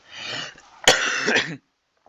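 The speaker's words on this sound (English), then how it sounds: "Still have a cough." Two harsh coughs close by, a brief rasp followed by a sharp burst and a longer rough cough, then silence.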